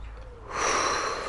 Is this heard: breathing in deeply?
yes